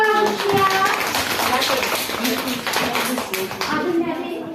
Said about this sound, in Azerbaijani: Uğur alqışıya.